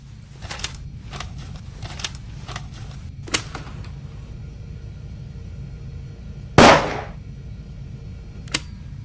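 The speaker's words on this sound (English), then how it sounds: "A shot is audible on the tape" Gunshot played back from a tape recording in The Raven, a single sharp loud crack that decays quickly over a hissy, humming tape background, preceded by several faint clicks and taps and followed by one more small click.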